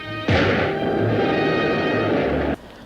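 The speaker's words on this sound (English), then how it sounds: "There's a big shootout and Cody throws some grenades" Gunfire and grenade explosions from an old film serial shootout, a dense, continuous roar of blasts cutting in abruptly and stopping just as suddenly, loud with a worn, hissy quality.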